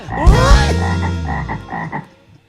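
Loud, close frog croaking: a drawn-out throaty call followed by a series of shorter pulsed croaks that fade toward the end, with no talking.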